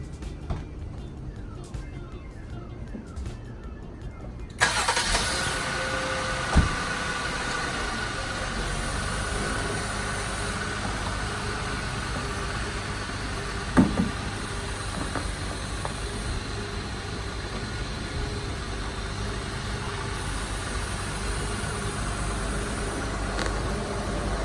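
A Jeep Wrangler JL on 42-inch tires with a 3-inch lift drives along, its engine and road rumble steady and fairly close, with a couple of brief knocks partway through.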